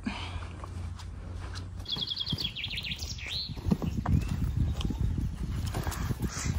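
A pony's hooves clip-clop in an uneven walking rhythm, close and fairly loud, while birds chirp briefly in the background.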